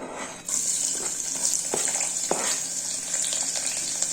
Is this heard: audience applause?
no